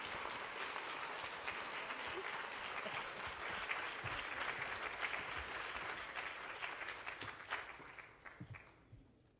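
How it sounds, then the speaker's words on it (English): An audience at a literary tribute applauds in a broad, continuous wave of clapping that stays even for several seconds, then tapers into sparse individual claps and dies away. "Let's give them another round of applause."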